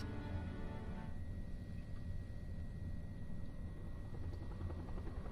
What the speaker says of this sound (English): Sounds like a chopper.